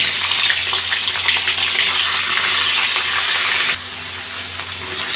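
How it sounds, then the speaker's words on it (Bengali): Pieces of pointed gourd sizzle in hot oil in a pan, a loud, continuous crackling hiss that steps down a notch partway through before settling into a steadier fry. "এই তেলের মধ্যেই আমি পটলগুলো দিয়ে দেবো"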